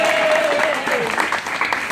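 Applause breaks out among spectators at a rainforest zoo animal show, clapping blending with overlapping voices and a brief whistle-like tone early on.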